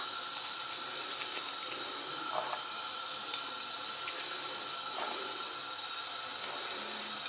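Onions sizzle in a hot pan while sesame chilli chicken and egg fried rice are cooked. They give a steady, bright hiss with small pops and no voices.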